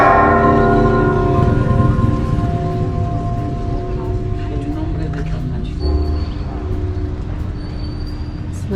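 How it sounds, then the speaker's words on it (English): Church bells in a Cholula bell tower, swung by hand, ring out with sustained overlapping metallic tones and long resonant decay, loud and steady with slight variations in the strikes. "They're actually ringing those bells by hand."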